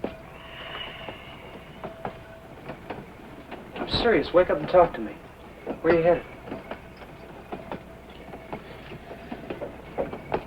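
Inside a moving railroad car in a 1959 film, a low rolling rumble runs under the whole scene with faint rhythmic clicks of wheels on rail joints, while two people talk over it.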